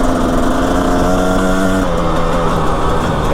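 Yamaha motorcycle engine labouring steadily through soft sand, a loud, continuous droning note with a slight shift in pitch partway through, heard alone without voices.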